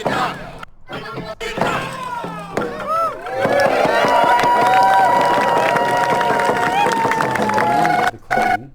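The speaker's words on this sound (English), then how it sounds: "That would be a great minute at the end with the clapping and the cheering as audio at the end of it" A large crowd claps and cheers with building energy, dense applause and shouting rising and holding loud, with scattered thuds early on and brief drops near the end.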